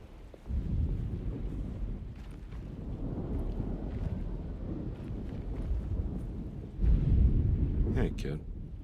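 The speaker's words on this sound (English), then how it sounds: "Just keeping an eye out for the storm." A thunderstorm in the video game Alone in the Dark (2024) rumbles steadily with rain and wind, swelling into a louder rolling burst of thunder near the end, with faint voices in the background.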